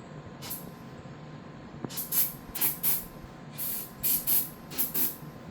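Carb cleaner sprayed into the carburetor of a barn-find Honda CBR600 motorcycle, a series of short, close hissing bursts, one early and then about six in quick succession, over low background noise.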